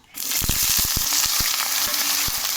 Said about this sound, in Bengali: তো আমি বেগুনটা আগে ভাজবো।